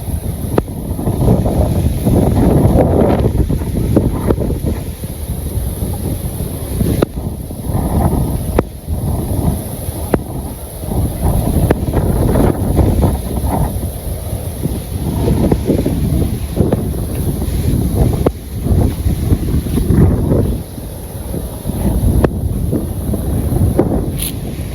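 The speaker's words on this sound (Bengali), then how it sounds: "এবারে ঝড়ি বাতাস।" Strong stormy wind roars steadily across a village homestead in a loud, buffeting rush of gusts and microphone wind noise that barely lets up for the whole stretch, with no talk heard.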